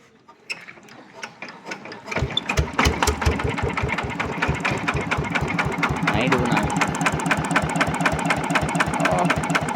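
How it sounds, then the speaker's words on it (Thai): A Yanmar 120Di tractor engine cranks and catches, then settles into a steady, loud diesel idle with a rapid, even knocking rhythm that carries on through the rest of the clip. "เดี๋ยวติดเครื่องก่อนนะครับ"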